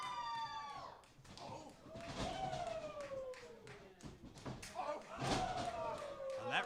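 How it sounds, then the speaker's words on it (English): A wrestler takes a reverse knife-edge chop and is knocked to the mat during a wrestling match, with a sharp slap and a heavy thud. Loud crowd noise and a commentator's voice run over it. "that reverse knife edge knocking Goldy to the ground."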